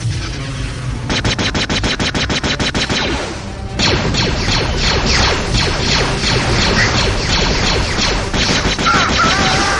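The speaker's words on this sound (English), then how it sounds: "Oh, that's the ion cannon." Heavy weapon fire from an ion cannon in the Star Wars Jedi Knight II video game, with rapid repeated blasts forming a dense, loud barrage and a brief lull before intense firing resumes.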